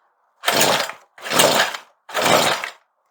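A Stihl 55R two-stroke engine on choke nearly catches, giving three loud, rough bursts of sputtering roar with brief silent gaps between them.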